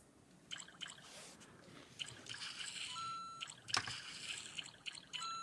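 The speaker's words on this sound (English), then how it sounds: "I love the sound effect. I hope my mic's picking that up, but it's the water effect." Watery trickling and splashing effect from a Lego Super Mario toy on the Wiggler's Poison Swamp set, quiet and close, with bright chirpy bursts rising and fading across a few seconds.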